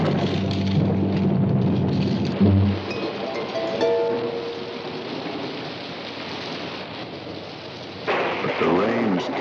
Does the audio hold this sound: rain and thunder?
yes